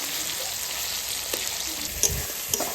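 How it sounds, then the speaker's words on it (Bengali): Spices for khichuri sizzle in hot oil in a pan with a steady close hiss and a couple of sharper pops near the end. No one speaks. "মশলাটা আমার ভাজা হয়ে গেছে"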